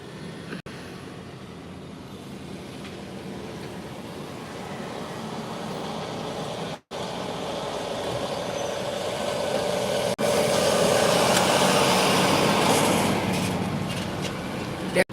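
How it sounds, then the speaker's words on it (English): A loud truck rumbles past outdoors, a broad, steady roar that swells toward its peak near the end and then fades away, with no one talking over it. "I had to wait for that truck to go by, y'all. It was so loud."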